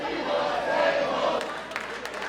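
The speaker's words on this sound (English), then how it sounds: "you hear the crowd, they're chanting for tables" Wrestling crowd at a No DQ match chants loudly for tables, a dense sustained roar of many voices filling the arena, steady and close, with a few sharper shouts toward the end.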